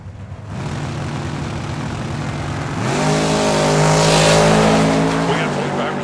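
Drag race cars launch at a drag racing event, a loud engine roar that rises sharply into a screaming, revving pull, heard over a continuous crowd and track background.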